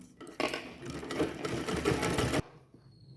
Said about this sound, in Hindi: इसको इस तरह से बराबर करके सिलाई कर लेना।